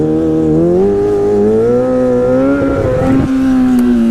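A stunt motorcycle engine revving during a wheelie, a loud, close, sustained drone that rises and wavers in pitch, with a brief rough burst near the end before it steadies.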